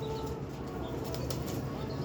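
A pair of young pigeons flap their wings in a brief, soft flutter close by, with faint background noise and no talking.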